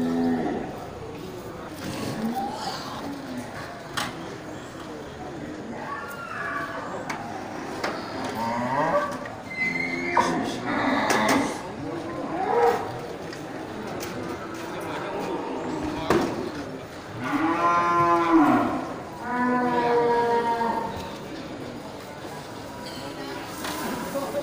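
Bali cattle, a cow and a bull still standing on a livestock truck, let out several loud, drawn-out moos amid clattering and knocking, with people talking nearby throughout.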